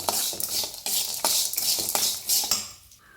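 Turmeric and asafoetida powder stirred into a hot pan with a metal utensil, giving repeated scraping clinks against the pan at a steady rhythm, close and fairly clear, with no voices.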